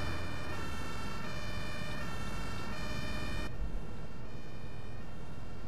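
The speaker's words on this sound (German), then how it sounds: "Das Tatütata geht mir auf den Sack." An emergency vehicle siren from the bus simulator game OMSI 2 wails loud and steady throughout, close by over a constant traffic rumble.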